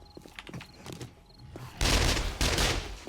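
Automatic turrets open fire in the 7 Days to Die survival game, a loud sustained burst of rapid gunfire that erupts after quieter voices and ambient sounds, swelling again near the end.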